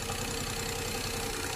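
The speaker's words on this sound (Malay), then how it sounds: "Oke, Anda lihat betul-betul apabila saya tarik engine akan bergegar. Oke, macam engine mati." The engine of a Perodua Viva idling roughly and shaking, giving a steady, dense, rumbling drone with uneven low pulsing that stays at constant loudness throughout.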